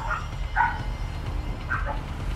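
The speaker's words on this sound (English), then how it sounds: "I got the dogs all riled up." Dogs bark and yip in the video game GTA 5, a few short mid-range calls over a constant low rumble of game noise.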